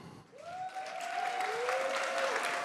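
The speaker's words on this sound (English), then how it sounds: "Let's give them a round of applause for their willingness to drive action through art" Audience applause for the Young Artist Collective winners at a Global Citizen NOW civic event in Detroit, a steady, full wash of clapping that builds slightly and holds, with a faint tonal whistle-like hum running through it.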